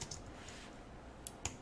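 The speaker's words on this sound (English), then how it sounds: "I'm just going to start typing." Quiet keystrokes on a computer keyboard, a few sparse, sharp clicks over a faint steady room hiss.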